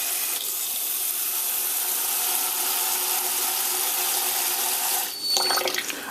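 Tap water runs steadily into a pot of uncooked rice to rinse it for Jamaican rice and peas, a continuous close hiss that shifts to splashier, sloshing sounds near the end as the grains are stirred.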